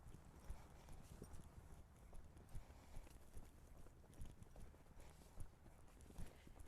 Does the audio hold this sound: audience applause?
no